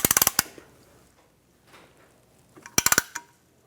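A hand tool ratchets to compress the brake caliper piston on a 2007–2014 Cadillac Escalade, producing two close bursts of rapid metallic clicks separated by a quiet pause, with no talking.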